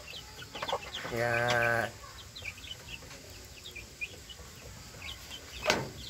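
Four-week-old Thompson and Rhode Island Red chicks cluck and peep nearby, with one longer drawn-out call standing out, and someone speaks briefly over them.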